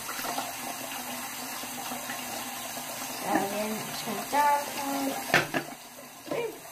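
Tap water running in a sink while a hermit crab sponge is rinsed out, a steady close wash with splashy bursts and handling knocks toward the end.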